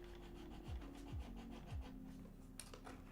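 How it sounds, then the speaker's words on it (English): A small saw cuts back and forth across a wooden toothpick on a wooden puzzle safe, a close, quiet scratchy rasp in three or four short strokes followed by a brief sharp click. "We're gonna do a little sawing action on either side, being very careful and cognizant of where our fingers are."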